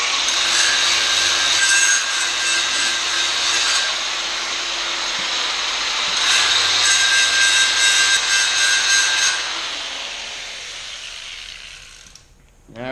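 A 60 grit disc grinds steel on a Toyota 4Runner pre-runner style front bumper, a loud continuous abrasive whine in two long passes with a short pause between, then easing off and fading toward the end.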